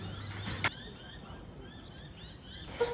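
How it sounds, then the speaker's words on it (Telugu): Faint, high bird chirps repeat over a steady outdoor hum, soft and distant, with a brief louder knock midway. "ఇక్కడ ఈ పిట్టలు సౌండ్ అది వినిపిస్తా చూడండి"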